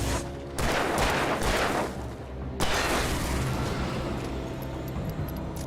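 Rapid bursts of gunfire from Alan Wake, a dense volley at the start and another heavy barrage after a brief pause, loud and sustained with no talking.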